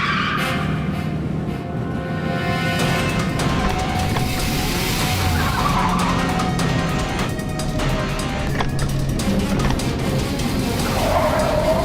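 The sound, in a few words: car driving and skidding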